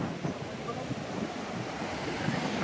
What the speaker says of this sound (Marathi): लाटा यायला लागल्यात